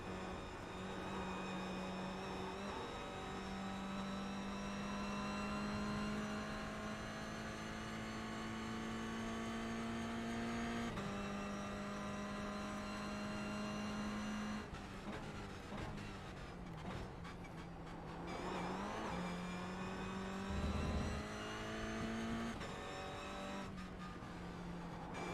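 An AMS Mustang race car in a sim racing game, its engine droning steadily at high revs through long pulls, with brief dips and shifts as it brakes and accelerates again, heard alone without talk.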